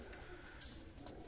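Pigeons coo softly in a brief, low burble, faint and close, with no talk over it.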